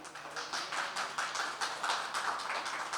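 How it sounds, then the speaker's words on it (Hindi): An audience at a public session claps to welcome state minister Rajesh Nagar, a steady, even patter of many hands sounding faint and somewhat distant. "जिनका मैं चाहूँगी तालियों से आप सभी स्वागत कीजिए"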